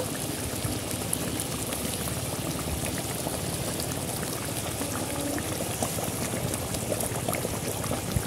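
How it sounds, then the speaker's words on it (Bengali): Curry gravy for Bengali katla fish simmers in a pan, giving a steady, continuous bubbling and gentle spitting texture throughout, fairly soft and unbroken, with no talk over it. "ঝোলটা ফুটে গেছে, আর একটু ফুটবে।"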